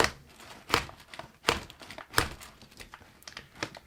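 Several dull taps of a hammer driving a fuel injector filter into a Honda Civic B18C4 injector through a plastic bag, roughly evenly spaced, close up with a faint crinkle between strikes.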